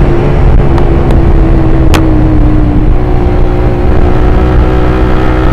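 A motorcycle on the move after a chain and engine sprocket adjustment gives a steady, loud engine drone with a continuous low hum and road noise, and one brief faint tick partway through.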